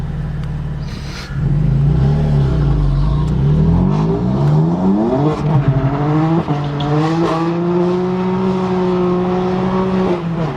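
A BMW M4 with a straight pipe exhaust accelerates hard from inside the car, a loud, raw engine roar climbing through rising pitch sweeps with short breaks at gear shifts, steady and close throughout.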